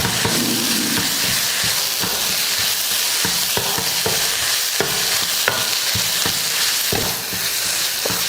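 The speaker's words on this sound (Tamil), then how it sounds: "ஒரு 3 நிமிஷத்துக்கு இந்த மாதிரி அந்த எண்ணெயிலேயே வதக்கி விடுங்க." Ground soya sautés in oil and masala in a pan, giving a dense, close sizzle broken by frequent scraping and tapping of a spoon as it is stirred.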